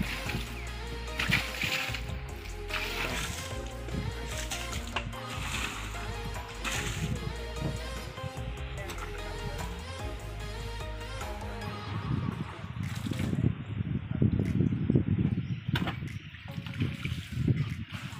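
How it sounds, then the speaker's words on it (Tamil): Water is poured over an old tyre to wash it in a village yard, a splashing, trickling pour that swells louder near the end, over a rhythmic background of music and scattered clatter. "இப்போ என்ன பண்ண போகிறோமோ, தண்ணியை ஊற்றி அதை கழுவ போகிறோம்."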